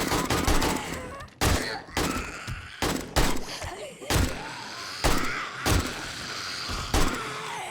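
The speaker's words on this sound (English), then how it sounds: "the reason I am wasting ammo is because it is a lot faster to just shoot the zombies" Gunfire at zombies in 7 Days To Die, a run of about a dozen loud, punchy single shots at an uneven pace over several seconds, close and dominant, with creature groans and thuds between them.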